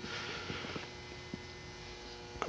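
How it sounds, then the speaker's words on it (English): A battery charger hums steadily while connected to a Craftsman snowblower whose chute has been converted from a manual hand crank to an electric drive, a quiet continuous mains-type drone with a few faint clicks and bumps. "I've got it hooked up to the charger right now. That's what you hear humming."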